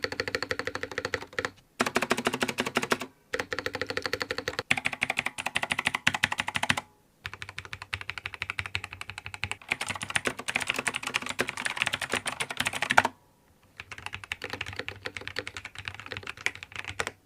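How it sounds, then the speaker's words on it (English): Keys clack on a Razer BlackWidow V4 75% mechanical keyboard with orange switches, fast, loud and close, in several bursts of rapid typing separated by brief silent pauses. "First impressions with this keyboard, the clicking is amazing."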